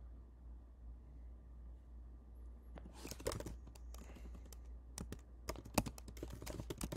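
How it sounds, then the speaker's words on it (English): Computer keys clack at close range in irregular bursts of typing after a few quiet seconds of low background hum, the taps sharp but fairly soft. "I'm not the best typer when I'm recording"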